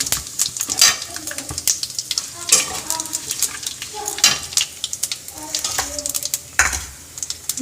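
Onion, tomato and spices tempering in hot oil, a busy crackling sizzle with frequent spoon scrapes and clatters against the pan, close and fairly loud throughout.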